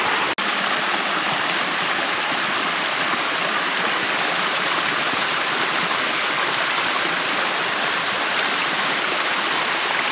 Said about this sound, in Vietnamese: mình không biết bao giờ mới hết cái thác này luôn